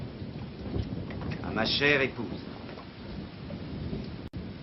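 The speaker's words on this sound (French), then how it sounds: "La pluie ne cesse de tomber." Heavy rain pours steadily with a deep rumble of thunder swelling midway, while a voice speaks briefly over the downpour.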